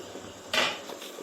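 A metal idli steamer pot holding rice puttu is opened in a kitchen, giving one brief, bright metallic clang as the lid lifts, followed by faint light clatter.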